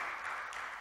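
Audience clapping at a trading seminar, a dense steady wash of applause heard briefly and fairly faintly, with no talk over it.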